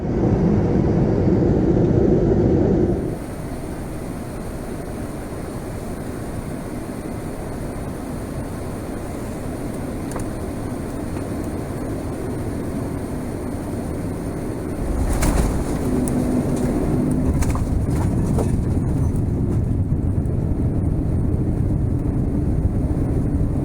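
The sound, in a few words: Turkish Airlines Boeing 787-9 Dreamliner landing in Amsterdam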